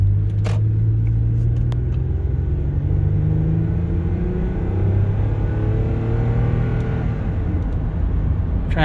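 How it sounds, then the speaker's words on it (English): A 2008 Toyota Highlander's engine hums loudly as it accelerates, the pitch rising then dropping at each smooth automatic gear change, with a few light clicks at the start. "Transmission shifts very smooth"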